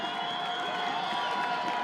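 Steady, distant roar of a crowd cheering at a high school football game, a continuous wash of voices and applause with no single standout shout.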